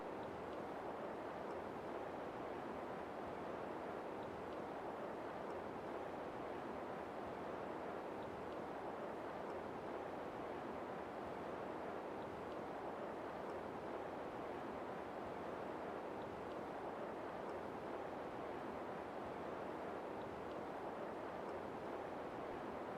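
Ocean waves wash steadily in a broad, continuous surf roar with gentle surges, close and fairly even throughout, with no voices or other sounds over it.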